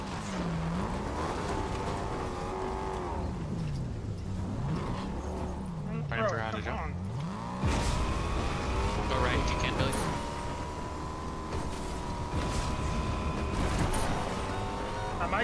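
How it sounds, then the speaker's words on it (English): Car engine in the Fortnite video game, a steady droning motor with pitch swells as it accelerates and revs, running continuously while people talk over it. "They hear our car and they're coming this way."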